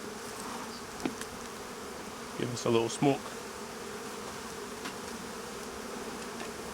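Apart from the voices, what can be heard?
honey bees buzzing at an open hive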